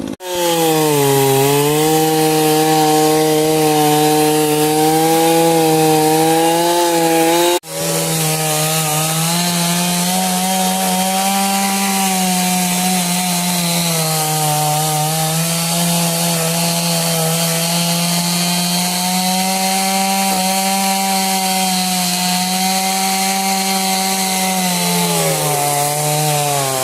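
A 20-inch Craftsman chainsaw cuts a fallen tree, running loud and close with a continuous high buzzing whine that dips briefly as the engine revs and labors.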